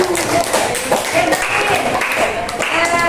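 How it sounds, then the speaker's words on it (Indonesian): A classroom of students applauds together, with a steady burst of clapping mixed with children's voices talking at the same time. "Ya, tepuk tangan dulu untuk Akila sama Kaidah."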